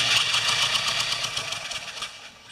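A Hyundai generator engine with a leaky exhaust and intake valve, primed with fuel down the carburetor, sputters and chugs in a rough, pulsing attempt to start, loud and close, then fades slightly.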